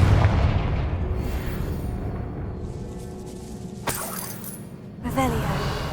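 A Confringo fire spell bursts in Hogwarts Legacy, a loud booming blast at the start that rumbles and fades, followed by further sharp impacts, with game voices and music underneath.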